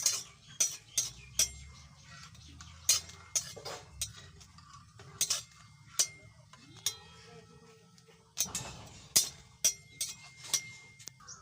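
Dried red chillies frying in a pan, heard as sharp metal clinks and scrapes of a spatula in an irregular rhythm over a low, faint sizzle, close by, with no talking.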